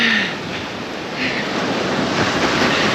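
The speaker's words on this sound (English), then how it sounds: "Sometimes the waves come so irregularly. They're so big they come even all the way up here." Ocean waves roll and crash continuously at Kelingking Beach on Nusa Penida, a loud, broad roar of surf that swells slightly partway through, with no talk over it.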